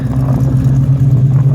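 1966 Chevelle with a bored-out 2012 Camaro LSA engine and Tremec 5-speed runs loud and close, a brief deep throbbing growl held steady.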